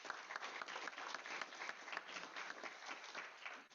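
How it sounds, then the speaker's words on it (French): Dense applause from a sizable audience fills the whole stretch, steady and moderately distant, with no one speaking. "qu'on les applaudisse encore plus fort"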